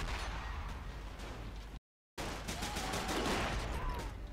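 Dense battlefield gunfire in the strategy game Men of War 2, with continuous bursts and rumbling volleys that cut out briefly before resuming loudly.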